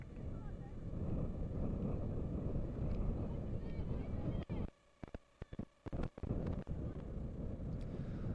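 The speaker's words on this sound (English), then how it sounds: "A massive gust again blowing from the far side of your screen to the near" Strong wind gusts buffeting the microphone at an outdoor college soccer field, a loud continuous roar that breaks into choppy bursts and brief dropouts toward the end.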